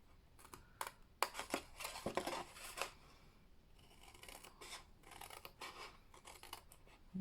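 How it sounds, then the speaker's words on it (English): Scissors cutting card along lines for a papercraft gift box: a series of close, crisp snips and slicing strokes in short bursts, with quieter rustling between cuts, no voices. "I'm going to cut down these 2 lines here."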